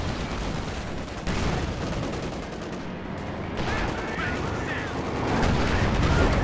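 Battle gunfire in the strategy game Company of Heroes 2: dense machine-gun bursts and rifle shots crackle continuously with occasional heavier blasts, loud and overlapping throughout.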